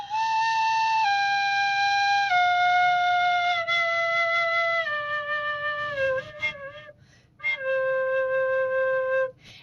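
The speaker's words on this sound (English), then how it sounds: "And I'm going to play each note going down my whistle." Penny whistle playing a slow descending run of single held notes, stepping down one by one, loud and close, with a short break and a squeaky, unsteady note near the end before a final sustained tone; no talking.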